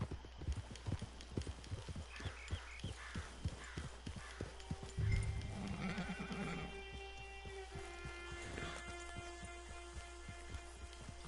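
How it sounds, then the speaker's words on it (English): Horse hooves clip-clop in a steady walking rhythm in the Red Dead video game, with a brief whinny partway through and faint game ambience underneath. "It's your horse."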